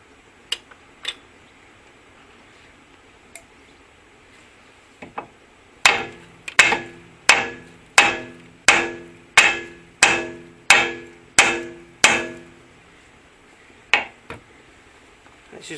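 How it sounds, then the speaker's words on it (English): A big hammer strikes the front suspension of a Honda CR-V with a broken front spring, about ten loud, evenly spaced metallic blows in a row, with a few lighter knocks before and after. "So time for a big hammer"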